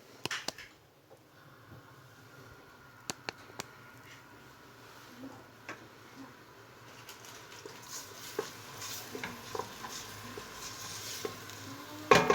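Soft, steady sizzling of onions frying in a pan, with occasional light clicks and scrapes of stirring; quiet and close, no talking.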